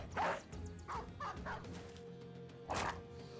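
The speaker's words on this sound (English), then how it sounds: "War dog, go." A war dog in the video game Battle Brothers barks in several sharp bursts, a quick cluster near the start and another loud bark near the end, set against a steady low battle ambience.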